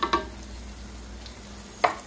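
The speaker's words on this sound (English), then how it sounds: "this is why I don't like frying stuff in grease or oil" Plantain frying in oil, a soft steady sizzle with a few sharp clinks of a utensil against the pan near the start and end, close and fairly quiet.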